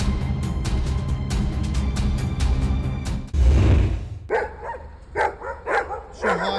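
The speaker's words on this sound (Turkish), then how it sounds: "Başıboş sokak köpeklerinin kol gezdiği bu görüntüler başkentten." Stray street dogs in a city bark in a rapid burst of overlapping barks. A rush of noise follows, then scattered yips and whimpers at moderate distance.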